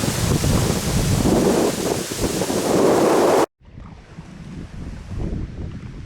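Strong wind buffets the microphone with a loud roar, cuts out abruptly, then continues more softly.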